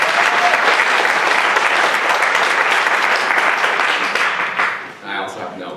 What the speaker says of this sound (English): can we just give another round of applause to those who came before me